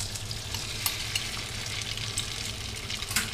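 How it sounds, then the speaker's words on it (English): Beef searing in hot oil in a pan, a steady close sizzle and crackle with occasional sharper pops and light stirring scrapes, heard alone without talk. "So my pan is nice and hot, so I'm gonna put in the beef."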